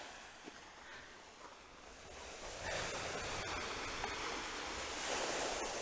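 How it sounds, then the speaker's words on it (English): Ocean surf rolls in steadily as a broad wash of noise, swelling louder partway through and staying full, with light wind around. "these waves are super coming in."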